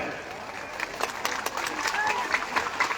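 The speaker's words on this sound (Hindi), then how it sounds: "जोरदार ताली बजा करके इनका स्वागत करिए।" A rally crowd at a women's awareness event in Siwan, Bihar, clapping to welcome Kedar Rajbhar, scattered claps building into a fuller round of applause, with a voice over the PA.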